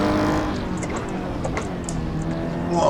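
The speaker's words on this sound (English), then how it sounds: "engine sounds very raspy though" A race car engine in the Assetto Corsa video game roars steadily at high revs during a race, a loud raspy drone with slight pitch shifts throughout.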